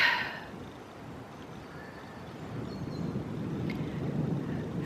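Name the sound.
wind blowing outdoors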